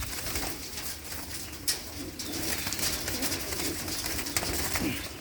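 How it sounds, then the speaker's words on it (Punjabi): Two fancy-breed pigeons held in hand on a Punjab pigeon farm give soft low coos amid steady outdoor background noise, with a few rustles and light flutters. "ਆ ਦੋ ਕਬੂਤਰ ਬਾਈ ਹੁਣਾਂ ਨੇ ਫੜੇ ਨੇ"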